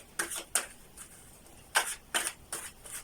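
A deck of cards being shuffled, heard as about six quick papery riffling bursts in two clusters with short pauses between, close and fairly quiet.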